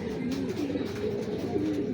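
Soft, repeated cooing of a checkered racing pigeon, a few low rolling coos in steady succession, fairly close and alone.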